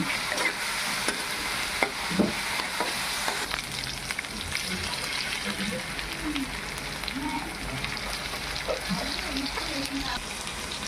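Vegetables fry and sizzle in a pan for veg noodles, with a spatula stirring and scraping at irregular intervals; a steady close hiss runs throughout.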